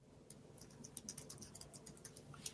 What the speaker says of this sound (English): You can hear my typing, can't you?